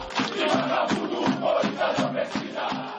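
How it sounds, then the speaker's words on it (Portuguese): Corinthians football supporters protesting against the club's board and players: a crowd chants rhythmically in unison with loud, pulsing shouts, heard at a moderate distance. "Primeiro dia de trabalho com protesto da torcida contra a diretoria, contra jogadores cobrando jogadores."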